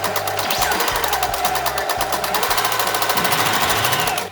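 A sewing machine stitches cosplay wig hair pieces in a loud, steady, rapid mechanical chatter that runs unbroken, close by and without any talk.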